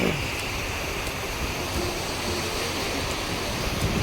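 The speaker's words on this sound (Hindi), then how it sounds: "देखिए पीछे झरना" A mountain waterfall near Hemkund Sahib roars in a dense, constant wash of noise, loud and close throughout with no pauses.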